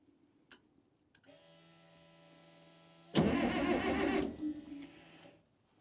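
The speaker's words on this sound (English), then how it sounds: "We'll give her something and then try to start it." A Cat 922B loader's engine cranks over with a steady whirring hum for about two seconds, then bursts into a loud, rough roar that falls back into a sputter and dies out.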